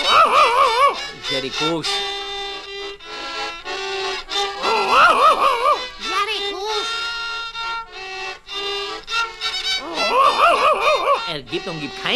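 A dog barks and yips in short repeated bursts between stretches of voices and speech, with whimpering tones mixed in, the barks loud and close.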